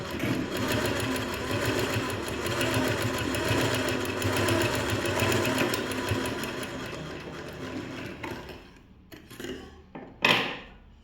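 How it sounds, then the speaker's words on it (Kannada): Sewing machine stitching blouse fabric, running loud and steady with a fast even needle rhythm for about eight seconds, then slowing into a few short bursts and stopping with a final clatter. "ಇದನ್ನು ಸ್ಟಿಚ್ ಮಾಡ್ತೀನಿ"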